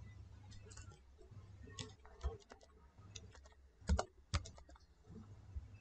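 Keys clatter in scattered bursts of typing on a computer keyboard as text is entered into a Word text box, soft clicks with a few sharper taps, close and fairly quiet.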